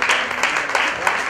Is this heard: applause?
yes